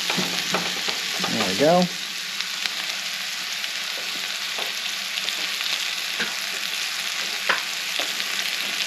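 Food frying in a thin layer of oil in a non-stick pan set on an outdoor grill for Asian-style chicken and noodles, a constant close sizzle with stirring clicks and a short remark from a voice near the start.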